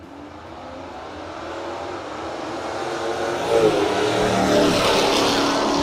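Drag race cars at a no-prep event roar steadily off in the distance, the engine noise swelling and brightening toward the end as they run down the strip, with no voices over it.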